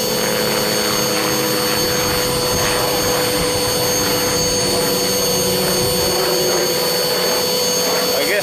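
A homemade coffee roaster runs loudly with a steady, harsh whirring roar like a vacuum or jet, holding a constant tone throughout.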